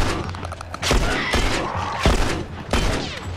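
Loud bursts of gunfire in The Last of Us video game, with several heavy, booming shots in quick succession punctuating a dense, continuous background of in-game action.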